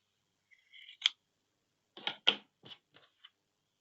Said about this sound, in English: I'm just going to cut off the excess